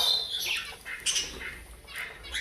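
Pet birds in a home bird room squawk at morning feeding time, a run of harsh, close calls repeating in uneven bursts with no talking.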